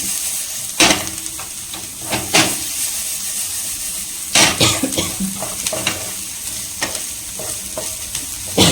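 Chopped onions sauté in a hot pan with a pinch of asafoetida, a steady sizzle broken by several loud spatula stirs and scrapes at irregular intervals, with no talking.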